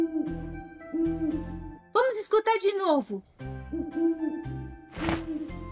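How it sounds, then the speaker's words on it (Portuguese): An owl hoots in short repeated calls, alternating with a child-style narrator voice speaking over a light musical background in a children's guess-the-animal-sound game. "Este é o som da coruja."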